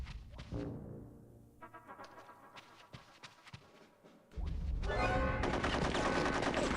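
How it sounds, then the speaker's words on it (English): Bursts of game gunfire from Conker's Bad Fur Day as squirrels are shot, rapid shots in the opening seconds and again as a sustained loud volley near the end, with busy game effects in between. "when you shoot them at the head, they die very quickly"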